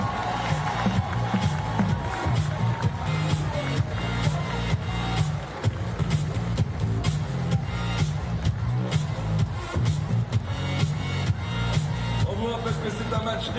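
A stadium crowd at a men's blind football match in Paris claps and cheers in a steady, dense roar, with an announcer's voice running over it throughout.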